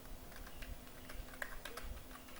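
HTML code typed on a computer keyboard: a quick, steady run of close, crisp key clicks with an even rhythm, faint room hum beneath and no talk.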